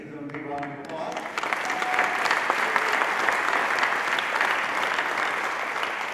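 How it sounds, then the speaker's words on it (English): Audience applause at a Democratic congressional candidates forum, a brief voice at the start giving way to steady, dense clapping from a large crowd that holds loud and even to the end. "Let's give them a big round of applause."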